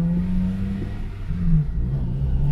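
A car engine running cold, revving and surging with a wavering mid-pitched whir and low rumble, close and fairly loud with no talking.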